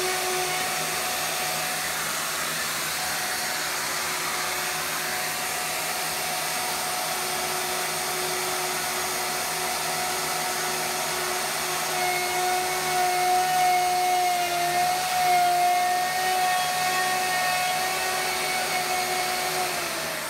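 A handheld router cuts across a wooden board with a sustained high-pitched whine that holds steady, then shifts slightly in pitch and grows a little louder as the bit bites in toward the end.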